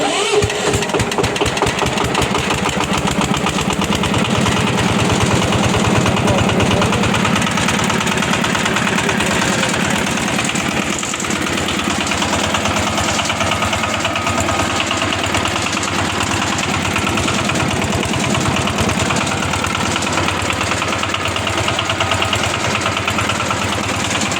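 Tractor engine with a floating gearbox and a combined hand and foot throttle on one pedal cranks and starts, then settles into a steady, loud, rumbling idle that runs on with constant vibration.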